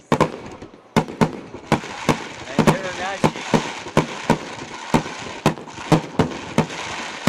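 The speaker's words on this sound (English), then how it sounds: "This type of fireworks." A fireworks finale at a soccer match sends out sharp, loud booms roughly twice a second in a steady barrage, with crackling between bursts and voices talking underneath.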